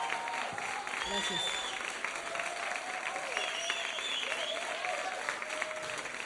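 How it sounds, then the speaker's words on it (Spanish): A studio audience at a Canal 22 cultural television taping gives sustained, even applause for the musicians and camera operators. A brief spoken thanks comes over the continuous clapping. "A los camarógrafos también un aplauso fuerte"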